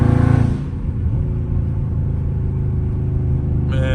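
Loud Scat Pack car engine driving, a deep throaty rumble that surges at the start and then holds a steady heavy drone, close and dominant with no talk.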